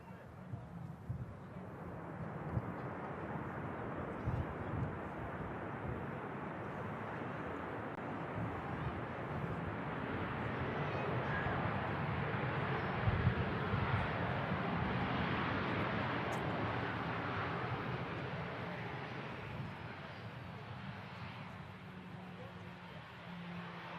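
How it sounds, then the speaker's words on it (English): A Ryanair plane from Girona landing at Manchester Airport, a broad distant jet roar that slowly swells and fades over the runway, with voices talking over it. "Touching down, there we go, Girona, Ryanair."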